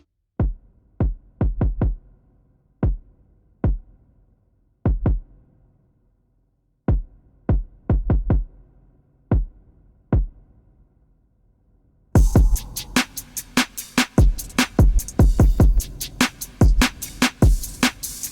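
Punchy processed drum hits, sparse and spaced at first, then a dense, louder beat with reverb-washed cymbals kicks in partway through.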